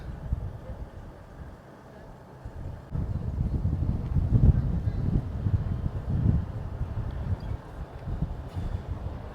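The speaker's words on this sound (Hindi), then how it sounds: "बहुत ज़बरदस्त तेज़ हवा है।" Strong wind buffets the microphone at Tibidabo in Barcelona, a steady low roar that surges louder partway through and stays heavy to the end, with no speech over it.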